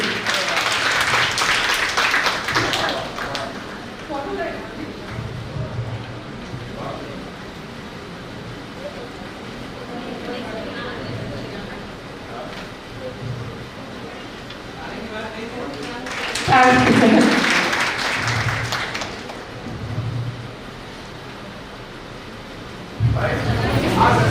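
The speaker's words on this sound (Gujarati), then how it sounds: "મધર પોતાના દીકરાનું સન્માન કરી રહ્યા છે. તાળીઓ ખૂબ પડવી જોઈએ." Applause from a crowd at a children's values camp as a mother honours her son Priyansh, bursts of clapping at the start and again later, with a voice speaking over a steady murmur between them.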